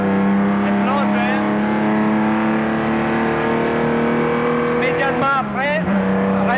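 A 1962 Aston Martin DB4 GT racing car drives at Spa, its engine holding a loud, sustained onboard drone with rising and falling pitch as it shifts and accelerates. Someone talks over the engine throughout.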